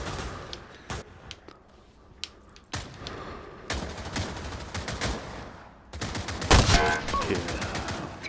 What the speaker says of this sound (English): that's the sniper from Counter-Strike